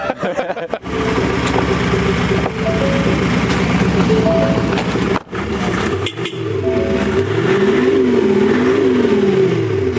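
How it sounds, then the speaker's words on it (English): A modified Ford Ranger Wildtrak Black Stag Edition pickup idles loudly up close, then its engine is blipped in repeated rising and falling revs, with a brief cut partway through. "Give it a rev, Jamie."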